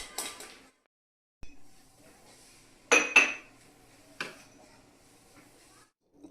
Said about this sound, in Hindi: बर्तन जो मैंने धोए थे ना वो सब जगह पे लगा देते हैं